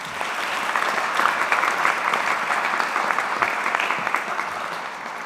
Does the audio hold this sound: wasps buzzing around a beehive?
no